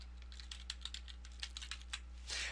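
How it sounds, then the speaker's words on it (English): Quick, light clatter of keys on a computer keyboard as a link is typed in, an even run of soft close taps over a steady electrical hum, with a brief louder rustle at the end. "I'm going to go ahead and type in the link to my Twitter page."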